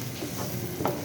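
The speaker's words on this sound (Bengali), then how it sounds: "এখন আমি বরবটি বাটাটা দিয়ে দিলাম, দিয়ে এভাবে করে নেড়ে নিব।" Yardlong bean paste stirred in a hot pan, a soft steady scrape and low sizzle over about a second with one brief louder scrape near the end, no voices.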